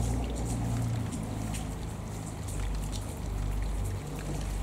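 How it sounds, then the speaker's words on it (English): Rain falling outdoors in a steady patter, with drops striking the surface close by, over a low rumbling hum that swells and fades underneath. "We've got too much rain on the lens."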